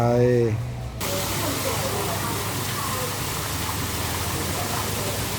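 A temple waterfall splashes into a fish pond at Wat Don Yai, a steady broad rush of falling water that carries on evenly after a brief spoken voice at the start.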